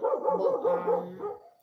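A background dog gives a sustained run of wavering barks and whines, fairly steady for over a second before fading out, with no one speaking.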